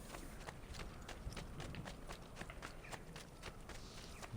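Horse galloping in the video game Assassin's Creed II, a steady run of rapid hoof clops over a constant game background, close and moderately loud, with no talking.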